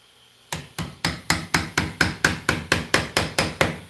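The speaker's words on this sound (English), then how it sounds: "I could get a bigger hammer" Steady hammer blows on wood during a woodworking project making a large flower vase, about fourteen sharp, evenly spaced strikes coming close and loud after a brief quiet start.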